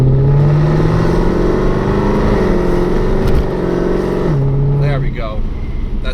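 A Mercedes W204 C63 AMG accelerates hard near the microphone, its engine note climbing in steady harmonic sweeps, easing off and then rising again, with the loud roar filling the whole clip.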